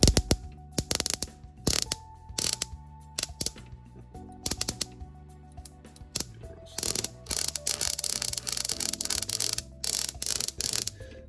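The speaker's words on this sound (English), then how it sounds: "That's a lot of spark." A stock CFI ignition coil fires rapid, irregular bursts of snapping, crackling sparks, close and fairly loud, with short pauses between runs.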